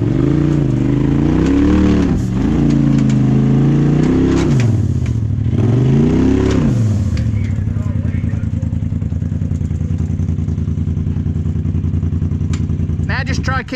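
An off-road vehicle climbs sand dunes at Sand Hollow, its engine revving hard in several rising and falling surges before settling into a steadier drone with some clatter, while voices talk nearby.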